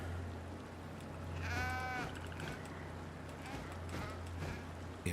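A sheep bleats once in the video game Mortal Shell 2, a short wavering cry over steady game ambience and faint hoof-like clatter.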